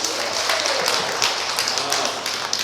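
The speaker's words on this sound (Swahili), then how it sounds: "Situwapigie hawa wapendwa makofi mazuri." A wedding crowd in a church applauds the couple with dense, steady clapping that fills the space at moderate volume.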